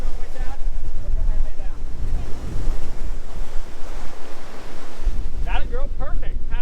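Strong wind buffets the microphone over crashing ocean surf on a beach at Disney's Vero Beach Resort, a loud, continuous roar with a brief faint voice near the end.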